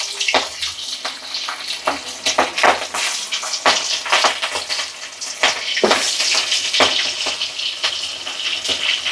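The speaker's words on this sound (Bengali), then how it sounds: "মাছগুলো ভেজে নেব" Pieces of fish, including fish heads, fry in hot oil in a pan, a steady close sizzle with bursts of sharp crackles and pops scattered throughout.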